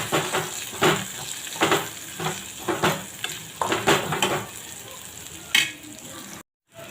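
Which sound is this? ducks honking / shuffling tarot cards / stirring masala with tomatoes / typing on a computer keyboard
stirring masala with tomatoes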